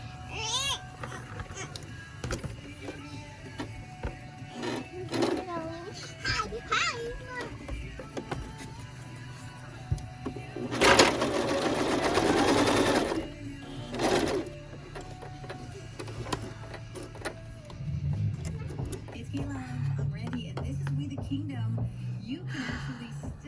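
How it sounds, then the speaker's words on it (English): A sewing machine stitching the fabric back piece of a cupie doll's head runs in a burst of a couple of seconds, with a few shorter runs nearby, amid ongoing talk and a baby's babbling. "Which this piece that we're sewing right now is the back of the head."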